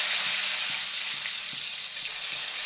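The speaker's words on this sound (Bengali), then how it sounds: "তার জন্য দেখুন পেঁয়াজ কুচি তেলে দিয়েছি।" Chopped onion frying in hot oil, a close, continuous bright sizzle with faint soft knocks of a utensil in the pan and no talk.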